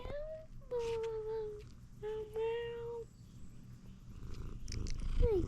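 A cat close by, purring with a few drawn-out, sliding meow-like calls rising over the rumble, then a brief rustle near the end.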